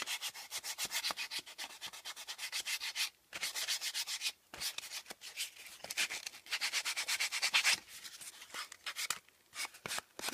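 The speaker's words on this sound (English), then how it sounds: "I'm going to take the sandpaper and I'm going to sand off that rough part on both" Sandpaper sanding the rough edges of a wooden letter M: close, steady back-and-forth rasping strokes in bursts, with brief pauses between them.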